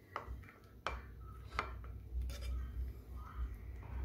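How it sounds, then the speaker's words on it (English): Cinnamon powder being mixed into French toast batter in a bowl, with a few sharp utensil clinks against the dish and soft scraping amid low background hum; no voices. "Mix it well."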